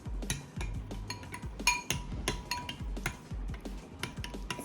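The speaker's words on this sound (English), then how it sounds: "Now, with the spoon, you start to mix." A spoon stirring and clinking through slime in a bowl, with quick irregular ticks and taps close up, steady throughout with no talking.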